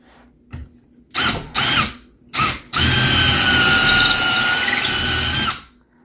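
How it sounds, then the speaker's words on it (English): A power drill bores holes into a wall for a fireplace mantel mount: three short bursts followed by one long sustained whir, close and loud, stopping abruptly. "he's making the holes to put the mount up"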